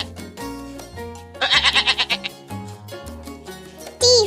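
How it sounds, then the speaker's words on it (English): A sheep lets out one loud, quavering bleat with a rapid wobble midway through, laid over a cheerful instrumental tune that plays throughout. "S for sheep."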